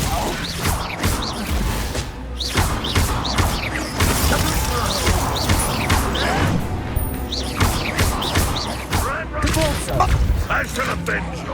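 Glacius freezing spell cast in the video game Hogwarts Legacy, amid a dense, continuous clatter of combat blasts, cracks and shattering impacts that stay loud and busy throughout, with a voice shouting over the effects.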